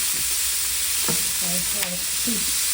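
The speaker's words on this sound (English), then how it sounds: "You hear it frying" Steady hiss of taco meat frying in a pan on a stove turned down, with a few soft scrapes and stirring clinks over the continuous sizzle.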